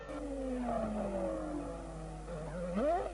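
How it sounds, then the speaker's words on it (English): Early 1990s Formula 1 cars, two Ligiers among them, scream past with sliding engine pitch, then tires squeal in a rising skid near the end, over a faint crowd-like background. "Two Ligiers, Comas and Boutsen, disputing the same bit of tarmac"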